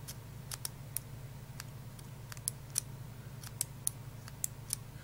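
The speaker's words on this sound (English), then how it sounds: "So the clicking mechanism does still work." A vintage ballpoint pen's click mechanism snaps repeatedly at an irregular pace, about a dozen sharp, close clicks over a quiet low hum.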